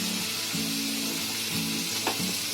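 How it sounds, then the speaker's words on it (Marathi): Mushrooms and capsicum fry in butter in a pan, a steady close sizzle with a low humming tone underneath and a brief stir or clink near the end. "मशरूम आहे ना, म्हणून आपण ते बटरामध्ये फ्राय करायचे"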